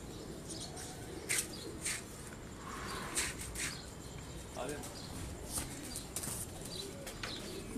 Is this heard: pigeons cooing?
yes